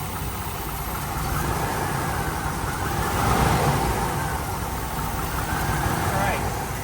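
A 1979 Chevrolet Camaro engine idles with a steady, smooth rumble that swells slightly in the middle, heard close and even throughout.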